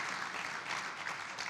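An audience applauding at a speech event, a dense, even wash of clapping heard from a distance and continuing steadily throughout.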